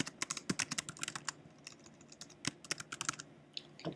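Rapid typing on a computer keyboard, bursts of sharp close keystrokes with brief pauses between runs, no voices present.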